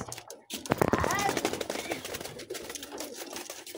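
Fantail and hybrid pigeons cooing and stirring close by, with a burst of activity early on, while someone talks over them throughout.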